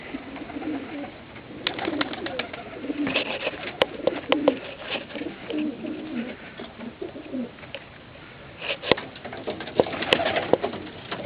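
Tumbler pigeons in a loft coo steadily and softly close by, with low repeated calls layered over each other and occasional faint fluttering and pattering.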